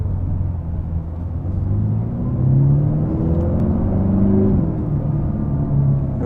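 Mercedes-AMG GT Black Series flat-plane V8 drones loud and low from inside the car while driving, with a steady rumbling hum and gentle rises and falls in pitch as revs shift.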